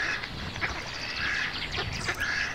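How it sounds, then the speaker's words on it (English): A duck quacks loudly in a rapid string of nasal calls during a children's story reading, several quacks close and clear with no talk over them. "The other animals hear Dottie's loud quacking and they chase Queenie."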